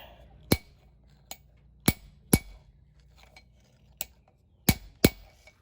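A hammer strikes a forging guillotine tool set on a knife blank, producing sharp metallic clinks at irregular intervals, some louder than others, with quiet gaps between them.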